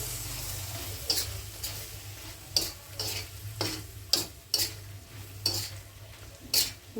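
Raw jackfruit and shrimp curry is stirred after roasted cumin powder goes in, with a utensil scraping the pan in repeated sharp strokes every second or so over a soft, steady low simmer.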